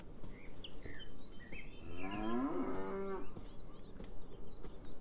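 A cow moos once in the video game Beyond Eyes, a long, drawn-out low call rising and falling over about a second, heard fairly close against a steady outdoor ambience with faint bird chirps.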